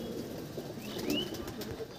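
A male and female pigeon from an Andhra pigeon collection coo softly, with faint rising calls over a low steady murmur and no voices.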